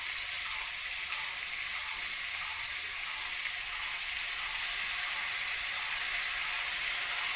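Basmati rice and spices frying in a pan for Bengali masala khichuri, a steady soft sizzle and hiss that holds evenly throughout, close and constant, with no talking.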